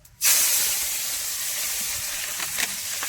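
Curry leaves drop into hot oil with fennel and cinnamon for an egg curry, setting off a sudden loud hiss that settles into a steady, close sizzle.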